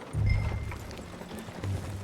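Horse hooves on the ground while riding in the video game Red Dead Redemption 2, muffled low thuds in uneven bursts under faint ambient game sound, moderately quiet.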